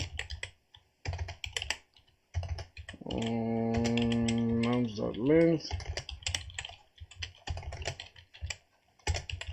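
Uneven bursts of computer keyboard typing while someone writes Java code, close and clear, with a person talking over part of it.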